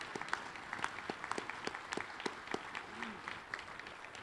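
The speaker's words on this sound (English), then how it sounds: "Let's give him another round of applause." Breakfast seminar audience giving a speaker a round of applause, a fairly quiet, scattered patter of hand claps from a modest crowd in a room, continuing evenly throughout.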